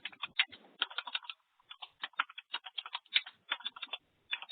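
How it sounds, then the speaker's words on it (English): Rapid typing on a computer keyboard during a conference call, crisp clustered key clicks in quick bursts with short pauses, close and fairly clear. "I think somebody is typing this."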